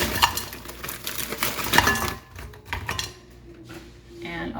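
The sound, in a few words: frozen corn poured into a pot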